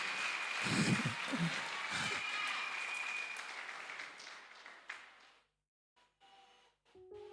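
Congregation in a church clapping together, a dense, sustained burst of applause that fades out toward the end, followed by near silence and faint scattered sounds.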